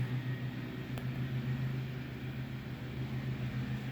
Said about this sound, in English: I apologize for the mowing noise in the background if you can hear that.